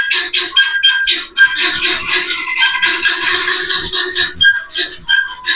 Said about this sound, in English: Hopefully you can hear me over the birds.